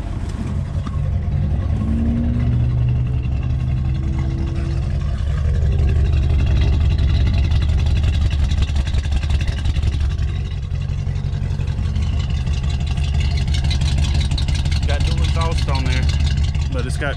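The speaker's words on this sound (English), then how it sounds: "Got quiet mufflers." Vehicle engine idling through quiet mufflers, a steady low rumble with a slight rise in the middle, heard alone without talking.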